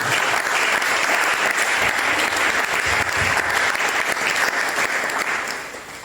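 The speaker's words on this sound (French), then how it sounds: "tu vas acclamer le Seigneur pour toi ce matin" A church congregation claps steadily and loudly for several seconds, a dense, sustained wash of applause that fades slightly at the end.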